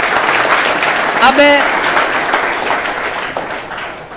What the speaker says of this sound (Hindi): ताली बजाओ जोरदार